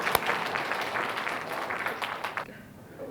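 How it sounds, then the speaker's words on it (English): Modest applause from a conference audience welcomes an invited speaker at a cybersecurity session. Scattered, fairly quiet clapping with a few sharp individual claps lasts about two and a half seconds before dying into room tone. "Let's welcome her with big applause."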